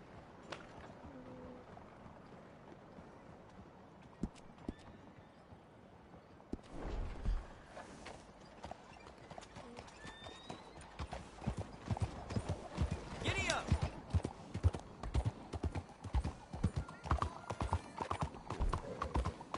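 Horse galloping in Red Dead Redemption Online, steady clip-clop hoofbeats building from quiet to a fast, close rhythm, with people talking over the game audio.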